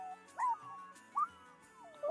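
A tiny puppy in The Sims 4 whimpers in three short, high, wavering whines, each separated by a pause, over faint steady background tones.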